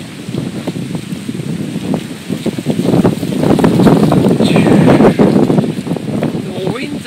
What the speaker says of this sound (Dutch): Wind, wat een wind.